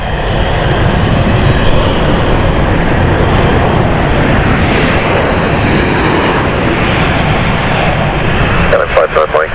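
Loud, close roar of a KLM airliner at London City Airport on a stormy night, continuous engine rumble with a voice talking over it near the end.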